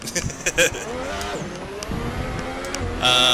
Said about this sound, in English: You guys wanted to see some drifting?